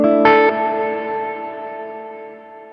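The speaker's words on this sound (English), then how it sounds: "extending the length of the reverb" A single sharp note through an Alabs Cetus reverb pedal rings out and then trails off in a long, smooth reverberant tail that slowly fades over a couple of seconds.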